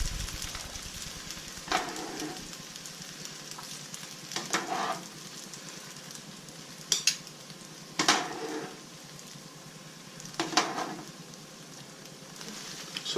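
Carbonara pasta tossed in a frying pan off the heat, giving a low steady sizzle broken by several short bursts of stirring and scraping, close and moderately loud.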